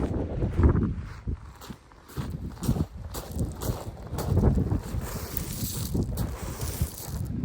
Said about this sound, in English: That wind is strong and cold.